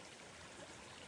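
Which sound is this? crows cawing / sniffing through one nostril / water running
water running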